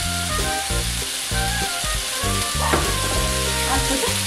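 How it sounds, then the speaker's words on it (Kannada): Chicken for pepper dry chicken fries in a pan with a loud, continuous sizzle that fills the whole stretch, with a tune playing underneath. "ಸ್ವಲ್ಪ ಹುರಿಯಿಟ್ಟು ಬೇಯಿಸಿ"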